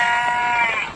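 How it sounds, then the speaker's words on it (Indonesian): A sheep bleats in one continuous, steady call on a rural Indonesian farm, loud and close, with no other sounds around it. "Saya paling suka kalau lihat domba."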